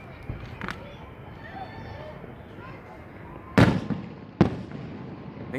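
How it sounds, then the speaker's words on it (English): Large firework shells burst over the Amman Citadel on Jordanian Independence Day: a few light pops early on, then two loud, sharp cracks close together near the end, over a background murmur. "You can hear the crack of them when they blow up."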